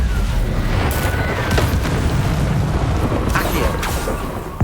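Incendio fire spell cast in Hogwarts Legacy: a continuous loud roaring, crackling rush of flame and booming combat noise fills the whole stretch, with sharp bursts flaring near the middle and end.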